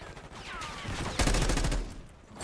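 Gunfire in Call of Duty: Black Ops 6 multiplayer: a loud, dense burst of shots erupts midway and rattles on for about a second over a busy game soundscape, then fades back into the background clamor.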